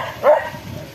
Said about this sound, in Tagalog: Kaninong aso to?